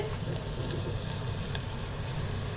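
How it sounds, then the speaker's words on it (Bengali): Chopped garlic fries gently in a pan over a low gas flame for a green pea soup, giving a steady, soft, close sizzle that holds evenly throughout with no talking. "রসুনগুলো একটু ভাজা হয়ে যাবে"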